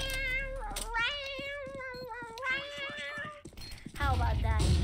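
A person imitates a cat, drawing out several wavering, nasal meows one after another, loud and close, with bursts of talking and noise after.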